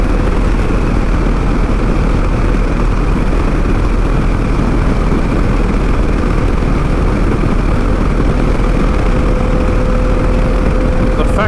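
Yamaha XT660Z Tenere 660 single-cylinder motorcycle engine pulling steadily while riding, a loud continuous drone with wind rush, close and unbroken throughout.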